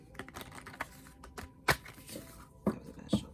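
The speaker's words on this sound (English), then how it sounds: "That was a bad shuffle." A tarot deck being shuffled gives quiet, irregular papery riffles and taps, with a few louder snaps of cards, close and faint.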